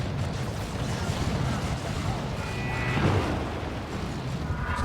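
Chaos Terminator autocannon fire in the strategy game Warhammer 40,000: Dawn of War 2, heard as a steady barrage of booming shots and blasts in a dense battle mix.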